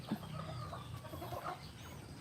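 Chickens clucking at feeding time on a farm before a coming storm, a soft, steady murmur of several birds close by with scattered faint calls.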